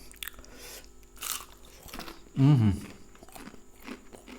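Fried chicken is bitten into close to the mic with one loud, crisp crunch, followed by quieter chewing, with faint voices in the background.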